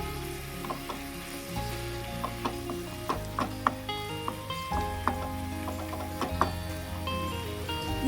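Fried chicken sausage pieces tipped into a pan of simmering Kerala-style masala, giving soft sizzling and bubbling broken by clinks and scrapes of a spoon against the pan, close and steady with no talk.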